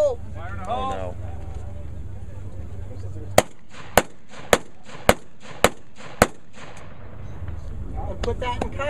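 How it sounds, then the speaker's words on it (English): Six sharp, evenly spaced M1 carbine shots crack out loud and close, roughly half a second apart, between stretches of outdoor wind and low rumble, with a voice briefly before and after the volley. "I never fired my carbine that many times."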